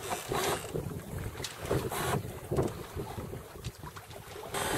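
Wind gusts buffet a sailboat under sail in a breeze, rushing and rumbling unevenly with water sloshing beneath, continuous and close.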